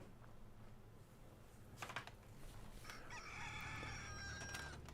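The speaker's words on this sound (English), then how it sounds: "Soundscape kicking in just fine. Lots of roosters." Several roosters crow in a Fallout 4 game settlement built with the Sim Settlements 2 mod. Their long, ringing calls overlap over a steady low ambient hum and grow fuller toward the end.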